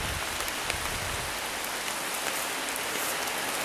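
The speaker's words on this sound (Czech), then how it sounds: "Sejmul nás déšť." Steady rain pours down during a bicycle trip along the Elbe cycle path, a dense, even hiss of drops with no talk, loud and close throughout.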